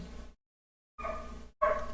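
Short barks from a small dog come in two clipped bursts separated by dead silence, the second sharper and louder, over a faint low hum.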